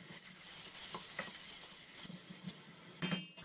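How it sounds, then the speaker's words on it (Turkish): Onions sizzling in a hot pan while being cooked for a fresh borlotti bean dish in olive oil, a steady crackling fry with occasional stirring scrapes and light taps of a utensil. "Soğanla şöyle biraz yumuşayıncaya kadar pişiriyorum."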